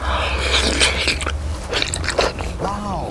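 Close, loud bites and chewing on egg during a Filipino mukbang meal with ketchup, a few crunchy, moist mouth sounds over a short stretch, with a brief voiced murmur near the end.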